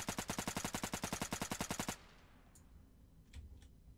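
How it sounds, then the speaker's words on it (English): Rapid automatic gunfire aimed at a vehicle in the free-to-play FPS game Burst, a loud, evenly spaced burst of about two seconds. After it stops, faint ambient noise follows with a couple of soft distant clicks. "I'm just shooting this vehicle that's now driving off."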